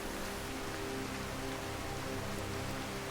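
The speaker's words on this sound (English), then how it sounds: "let's get out of this rain." Steady rain in the video game Skyrim makes a constant, even hiss of falling water, with a faint low tonal hum beneath and no talking.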